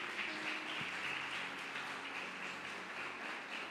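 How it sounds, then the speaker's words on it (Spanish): Soft, steady applause fills a church service after a sermon, a continuous wash of clapping heard from a distance, low in level with faint tonal hum underneath. "Dale un aplauso."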